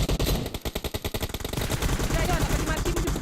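Rapid bursts of automatic gunfire in a shooting video game, loud and close, followed by denser overlapping shots and explosions, with players talking over the action.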